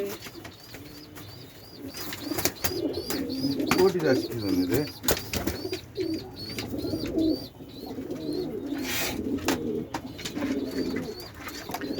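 Pigeons coo steadily inside a pigeon house, a continuous low burbling chorus from several birds close by, with a person talking over it throughout.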